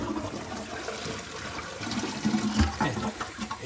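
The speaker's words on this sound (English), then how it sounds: "And then I'm going to flush it and drain out all the water." A household toilet with a faulty float that won't shut off is flushed and drains, a rushing watery wash rising to a louder gurgle midway before settling, close by with no talk.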